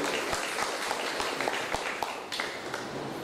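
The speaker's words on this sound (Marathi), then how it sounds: "तुमच्यासाठी एका जोरदार टाळ्या वाजवूया" Crowd applause at a first-aid kit distribution event, a dense patter of many hands clapping steadily for a few seconds, moderately loud with faint voices underneath.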